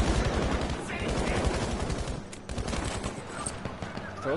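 Rapid bursts of video game gunfire, loud and continuous, with several weapons rattling at once and tight automatic volleys that thin out toward the end, set against busy background battle noise.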